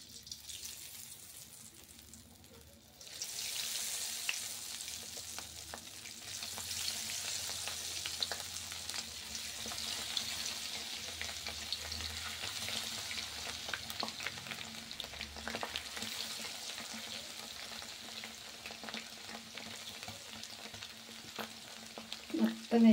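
Kebabs dropped into hot oil for deep frying, a quiet start giving way to a steady, fairly soft bubbling sizzle that carries on evenly with a few crackles, no voices.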